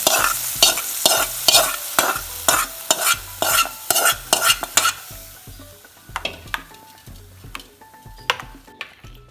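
A spoon stirs a hot tempering into ground pickled mango, scraping with a run of sharp, rhythmic strokes over a light sizzle, then slowing to scattered clicks and faint taps as the mixing eases off.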